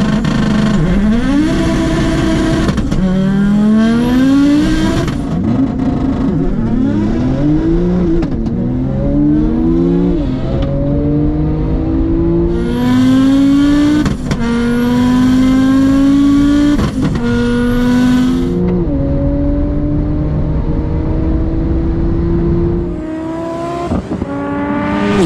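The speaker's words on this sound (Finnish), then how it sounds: "Ekas paikaltaan lähdös Audi lähtee raivokkaasti kaikki 4 rengasta sauhuten." An 800 hp Audi S2 and a 630 hp Porsche 911 Turbo S launch from a standstill in a drag race, tearing away loudly side by side. Their engines rise through repeated gear changes and stay loud and close throughout.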